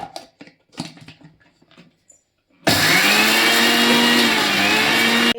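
A mixer grinder starts abruptly and whirs loudly and steadily as it grinds roasted sesame seeds with salt into podi, after a few seconds of quieter handling sounds and light clatter.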